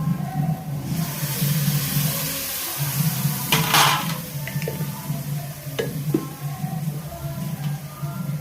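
Water poured into chopped vegetables frying in a pan for veg kothu parotta, a soft hiss and bubbling sizzle running steadily throughout, with a few brief clinks of a utensil.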